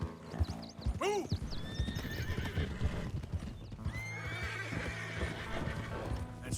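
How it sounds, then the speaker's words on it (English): Horses whinny and neigh loudly in Red Dead Redemption 2 while hooves clip-clop in a steady rhythm beneath, with wagon and outdoor ambience, and a second drawn-out whinny follows near the end. "Come on, horses."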